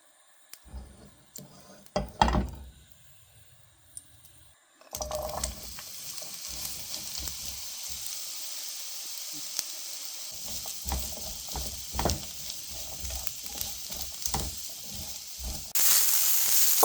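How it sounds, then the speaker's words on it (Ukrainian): Diced eggplant sizzling and crackling in hot oil, a steady frying hiss with occasional stirring clatter, close by, after a brief quieter start. "Підсмажуємо до золотистої скорінки на олії."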